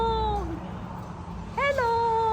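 Cat meowing near and clear, one drawn-out meow followed after a pause by another rising meow, over a low background hum.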